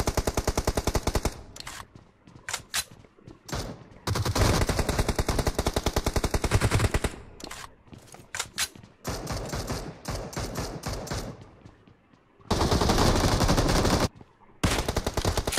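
Gunfire in the mobile shooter BGMI: loud, rapid automatic bursts of varying length with sharp, evenly spaced shots, broken by short silences and single pops.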